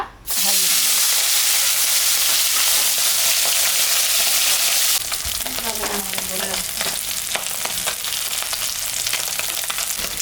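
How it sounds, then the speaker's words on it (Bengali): Loud, steady sizzling of salted, turmeric-coated fish frying in hot mustard oil, a dense crackling hiss that eases partway through as the pan settles. "মাছটা ভাজা হয়ে গেছে আমি এখন মাছটা তুলে নিলাম"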